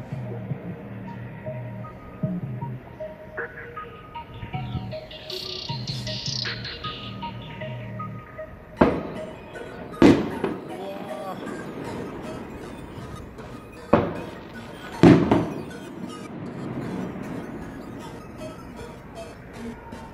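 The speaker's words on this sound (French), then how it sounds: "Il y a des feux d'artifice partout, là c'est lourd." Several sharp, booming firework blasts burst out in the second half, separated by a few seconds, over a steady crackling background and distant murmur, during a night of unrest in Toulouse's southern neighbourhoods.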